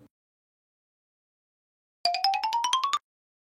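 A phone ringtone rings out for about a second, a rising electronic melody of quick bright pulses that stops abruptly as the call goes unanswered; no one speaks.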